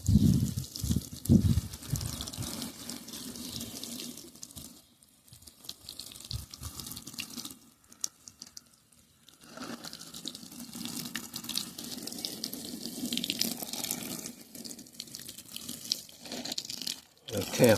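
Young gifted plants are watered on an allotment, with uneven bursts of running and splashing water that stop and restart in short gaps, along with faint rustling and handling noises nearby.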